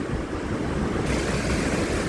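Water rushes steadily from a mountain waterfall into a pool formed by heavy rain, a continuous broadband roar that stays loud and even with no voices.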